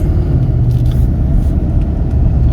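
A 2021 Ford F250 STX 4x4 crew cab pickup's V8 engine rumbles steadily up close as it drives off, a heavy low drone that holds constant with no voices.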